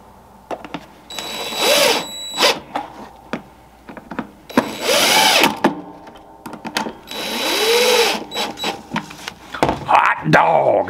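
Power drill driving screws into an air box on a V8-swapped Chevrolet S10 Blazer, several close whirring bursts of rising and falling motor pitch, separated by short pauses and clicks.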